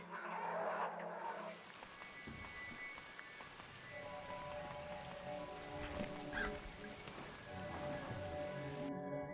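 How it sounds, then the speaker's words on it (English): Steady rain in the video game Crow Country patters and hisses throughout, with a low rumbling engine-like drone and scattered tonal game noises underneath. "The rain and the noise are such"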